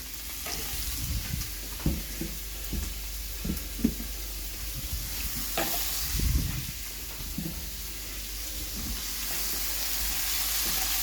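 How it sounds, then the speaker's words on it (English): Sausages brown in an oil-filled pan with onion and apple, giving a steady close sizzle and hiss with soft scraping stirs and light clatter throughout. "Brown the sausages. Add onion and apple."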